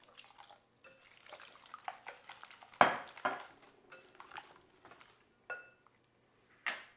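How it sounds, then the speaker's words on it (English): Eggs, sugar and milk are whisked in a bowl, giving light irregular clinks and scraping taps of a whisk against the bowl, with sharper knocks now and then. "We'll give these a whisk"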